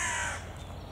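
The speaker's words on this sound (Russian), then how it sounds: "Да тут каркает, там этот маленький вороненок сидит." A young crow caws once, a short hoarse call close by that quickly fades into quiet outdoor background.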